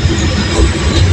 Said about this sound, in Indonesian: sekarang kereta api Cikuray persiapan masuk di stasiun Leles